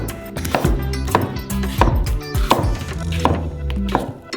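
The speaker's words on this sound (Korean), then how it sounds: "순수한 멜론 과육을 썰어주세요." A kitchen knife chopping peeled, ripe, juicy melon flesh on a cutting board, a steady series of firm close thunks, about two per second, with no other sounds intruding.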